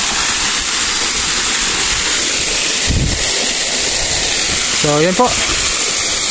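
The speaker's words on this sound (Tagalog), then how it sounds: "Ito po ang tinatawag nilang Murok-Burok Fall." Murocburoc Falls in Albay flowing as a steady, broadband rushing wash of water, loud and continuous, with a brief spoken voice near the end.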